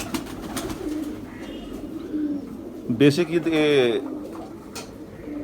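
A Lahori Salara Teddy pigeon gives a close, rolling coo that swells and fades in the middle, while someone speaks nearby before and around it.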